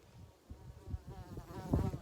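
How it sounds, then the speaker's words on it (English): A bumblebee buzzes close by in a rural countryside setting, a low droning hum that rises and falls as it moves about over a couple of seconds, growing louder toward the end. "Bumblebee, go away, bumblebee."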